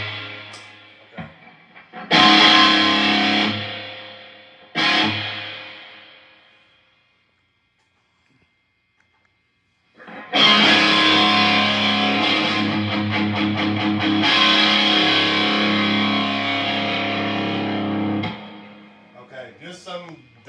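An electric guitar played through two combo amps with the reverb turned up high, loud riffs: two short ringing bursts, a few seconds of near silence, then a longer sustained, saturated passage that fades out.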